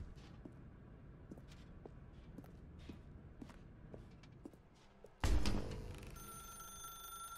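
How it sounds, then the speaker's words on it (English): A telephone rings in The Stanley Parable video game, a sudden loud ring with a lingering tone after a stretch of quiet, soft footsteps on a hard floor. "Now pick up the phone, said the bucket."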